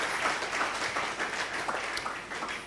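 A church congregation at an evangelical thanksgiving service applauds together: steady, dense clapping from many hands that holds for the whole stretch without a break, with no voices standing out above it.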